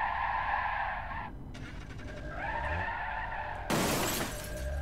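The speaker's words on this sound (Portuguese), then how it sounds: "Nossa, agora eu bati o outro lado do carro." A Fiat Uno Turbo in the BeamNG.drive driving game, fleeing police across a bridge, skids with squealing tires and then slams into something with a sudden loud crunch and shattering burst near the end.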